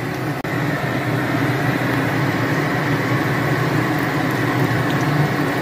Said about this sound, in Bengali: এক পিঠ উল্টে দিলাম, দিয়ে এবার লাল লাল করে ভেজে তুলে নেব